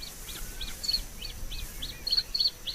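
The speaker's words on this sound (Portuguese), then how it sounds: "O canto do macho estabelece o território do casal." A male bluethroat singing in a spring reedbed, repeating short bright chirping phrases in a quick rhythm, fairly close and clear over faint background hiss.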